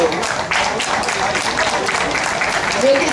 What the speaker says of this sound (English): give him a nice round of applause and thank you